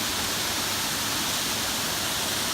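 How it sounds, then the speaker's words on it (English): Waterfall in the Black Forest of Germany, a steady, loud, broadband rush of falling water that holds constant throughout with no pauses and no voices. "This is such a cool waterfall."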